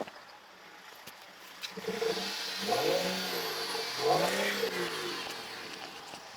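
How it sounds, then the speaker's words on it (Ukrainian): A diesel car engine revs up twice, rising and falling in pitch, over a steady idle with road-like background noise. "А ну, газани!"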